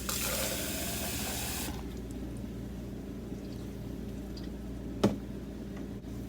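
Water gushes from a tap into a cooking pot in an RV kitchen, a loud steady rush that stops after under two seconds, leaving quiet room tone and a single small knock.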